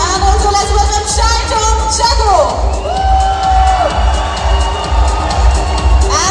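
A large crowd at a film promotion event in a Lulu Mall cheers, whoops and yells loudly and continuously, with bright shouts rising and falling over a dense roar of voices.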